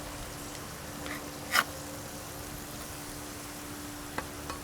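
Burger patties fry in a pan with a soft, steady sizzle, faint and continuous, broken by a brief scrape or clatter as they are flipped, then a small tap later.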